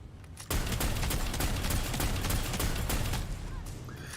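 Rapid, dense gunfire from a turn-based Necromunda Underhive Wars PvP match, a sustained loud burst of shots that begins abruptly and runs for several seconds before easing slightly at the end.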